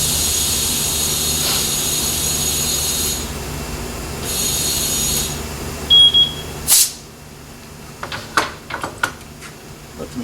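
A wheel balancing machine spins a car tire with a steady whirring drone for several seconds, then winds down and stops, followed by a few sharp clicks and clunks nearby.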